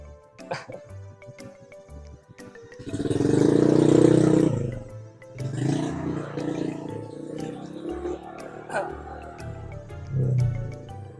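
A loud, noisy motorbike engine idling and revving nearby, rising into a strong roar for a couple of seconds before settling into a rumbling idle with a few more revs.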